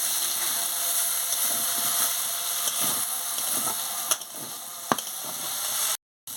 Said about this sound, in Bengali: সিদ্ধ হয়ে গেছে সব আলু আর বরবটি সিদ্ধ হয়ে গেছে আমি ভালো করে ভেজে নিচ্ছি